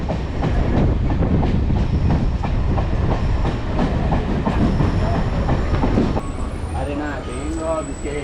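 A MEMU electric local train from Chennai Central to Tiruttani rolls along the tracks near Ambattur station with a steady rumble and rhythmic clatter, voices chattering faintly in the carriage.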